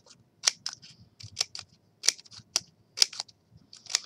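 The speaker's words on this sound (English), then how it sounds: "I'm just going to fold it over. I'm going to cut it. Okay, and you're just going to snip, snip, snip." Scissors snipping through folded double-sided scrapbook paper, a series of sharp, close crisp cuts in an irregular rhythm with short pauses, quiet background otherwise.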